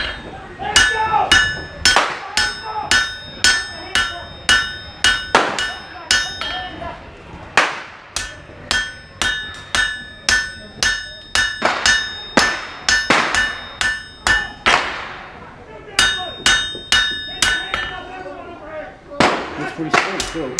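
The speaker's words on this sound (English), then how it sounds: "Before you hammer the bevels." Steady hammer blows ring on an anvil while forging the bevels of a Bowie knife blade, sharp metallic strikes in a quick even rhythm with brief pauses between bursts.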